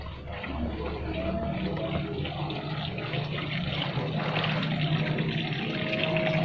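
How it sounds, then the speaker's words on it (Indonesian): Clean water runs steadily from a spout behind a house in a small hillside village above green rice fields, a continuous broadband splashing and trickling that stays at an even, fairly loud level throughout with no talk. "di belakang rumahnya itu ada sebuah pancuran ya"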